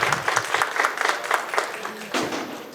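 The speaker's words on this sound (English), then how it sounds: "please give her a round of applause" A parent and family engagement meeting audience claps for an incoming presenter, a brief burst of moderate applause that tapers, with a few voices audible underneath.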